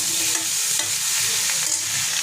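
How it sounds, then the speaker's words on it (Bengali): Vegetable curry stirred in a hot pan: a loud, dense, continuous sizzle, close up, with faint scraping of the spoon underneath and no voices. "এবার এটাকে ভালো করে নাড়িয়ে চাড়িয়ে নেব।"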